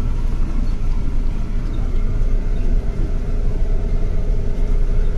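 A diesel camper vehicle drives along to a farm field carrying fuel for a harvester, giving a continuous low engine rumble and road drone heard from inside, steady and loud throughout with no talk.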